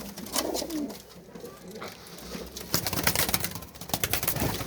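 Pigeons coo softly in a loft, several low throaty calls rising and falling close by, with some rustling and shuffling among the birds.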